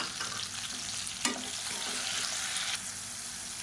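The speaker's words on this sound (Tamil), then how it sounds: "இதை நல்லா வதக்கி விட்டுக்கலாம்." Onion and tomato sautéing in a pan, a steady close sizzle with a brief stirring scrape partway through and no talk.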